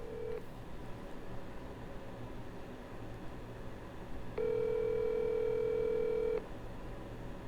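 A steady electronic telephone tone sounds for about two seconds over constant background hiss while a call is placed, with no talking.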